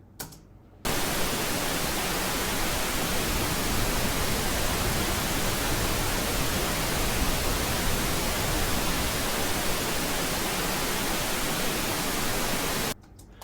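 Steady broadband pink noise with an EQ cut at 63 Hz, loud and continuous for about twelve seconds between short silent gaps at start and end, no voices.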